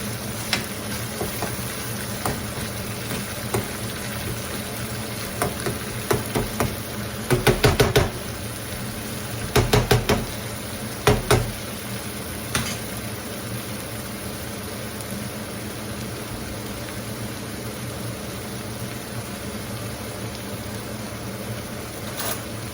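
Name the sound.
stirring egg shakshuka mixture in pan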